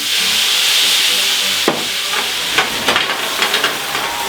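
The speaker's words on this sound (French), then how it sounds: "maintenant flambage. Alcool de riz." Shrimp flambéed with rice alcohol hiss and sizzle loudly in a hot pan, a steady frying roar broken by sharp scraping and stirring knocks in the latter half.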